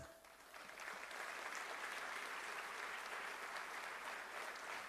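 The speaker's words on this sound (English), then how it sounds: "please give a big applause for the teachers." Students at an engineering college passing-out ceremony in Pune applaud their teachers, with a dense, even roar of many hands clapping that swells in after a quiet start and continues steadily, somewhat distant and soft.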